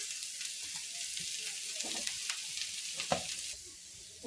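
Spiced potato mixture fries in a mustard-seed tempering for vada pav, giving a steady close hiss of sizzling oil with soft scraping stirs and a few clinks of a spoon against the pan.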